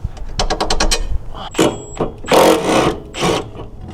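A ratcheting wrench on the 14 mm bolt of a rear sway bar end link on a 2022 Subaru WRX, giving a quick run of close clicks followed by several longer grinding, scraping turns.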